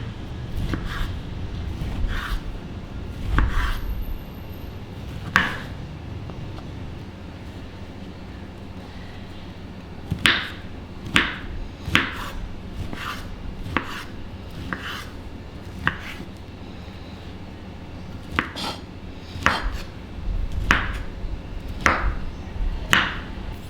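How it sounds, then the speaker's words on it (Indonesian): Half a slab of tempeh is chopped into small pieces with a knife on a board: sharp, distinct chops in uneven bursts and pauses, close and loud, with no talking. "Jadi tempenya ini kita mau potong-potong dulu. Potong-potong kecil."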